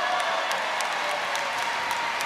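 Spectators at a badminton match clap and cheer, a fairly quiet wash of applause heard at a distance with a few sharper claps standing out briefly.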